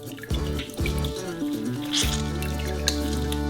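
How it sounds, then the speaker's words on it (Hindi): Freshly curdled paneer is squeezed by hand to press out excess whey, with close wet squishing and a steady run of dripping, trickling liquid. "अतिरिक्त नमी को निचोड़े ताकि पनीर घना हो।"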